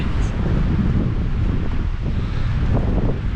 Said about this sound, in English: The wind is quite biting today.